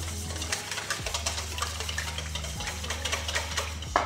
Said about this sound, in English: we'll just give this a quick whisk